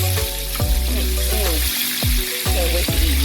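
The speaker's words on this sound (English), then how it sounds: "So this is the chicken that's gonna be fried, and this is what's frying so far." Chicken fries in hot oil with a steady bright sizzle, close up, broken by periodic thumps and clatter as pieces are moved and stirred, with some faint indistinct vocal sounds mixed in.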